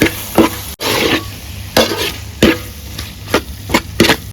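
Beef fry with meat masala and ghee being stirred in a pan over a village fire, a spatula scraping and clacking against the metal in irregular sharp strokes over a steady sizzle.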